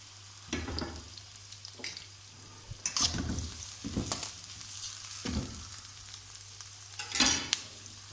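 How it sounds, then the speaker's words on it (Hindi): Onions frying in a pan for chicken korma, a soft steady sizzle punctuated by repeated stirring scrapes and a louder scraping burst near the end, with a low steady hum underneath. "प्याज फ्राई हो चुके हैं।"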